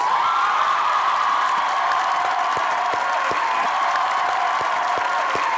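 A talk show studio audience applauds to welcome actress Kiran Malik, lead actress of Zarar, in a dense, steady wash of clapping with a few distinct individual claps over a constant crowd roar.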